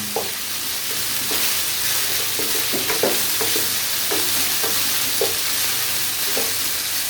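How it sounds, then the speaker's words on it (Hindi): Mutton pieces for a salted green-chili curry frying on a high flame, a steady loud sizzle broken by repeated scraping stirs with no talk. "5 मिनट मैंने इसको हाई आंच पर जो है वो फ्राई किया है"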